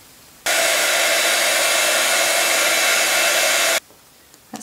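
A heat tool blows steadily for about three seconds, a loud continuous whoosh drying ink on a craft tag, switching on and off abruptly with quiet room sound around it.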